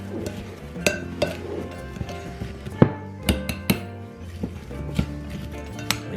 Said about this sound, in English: stir it until it's all coated